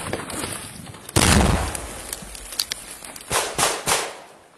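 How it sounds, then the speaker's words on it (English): A grenade goes off in a combat setting with one sharp, heavy blast that decays quickly, followed by several smaller cracks and thuds at moderate distance. "The grenade flies back and goes off."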